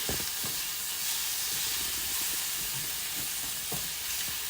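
Salmon fillet frying and sticking in a pan, a steady sizzling hiss with faint crackles running evenly throughout, moderately quiet with no talking.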